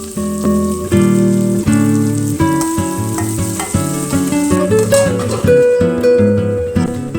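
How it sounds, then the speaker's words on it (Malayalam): Okra stir-frying with salt in a pan gives a loud, continuous spattering sizzle, heard beneath steady tonal background music. "ഇളക്കി വഴറ്റിയെടുക്കണം വെണ്ടയ്ക്ക"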